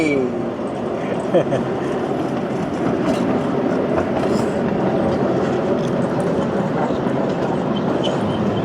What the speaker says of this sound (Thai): รถไฟเอาโค้งแล้วครับ